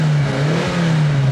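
Sports car engine revving from a classic TV show car, a loud close mid-pitched engine hum holding steady with a brief dip and rise partway through.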